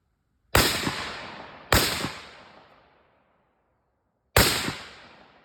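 Three loud, sharp gunshots at a shooting drill ring out alone, each followed by a short decaying echo: two about a second apart, then a pause and a third.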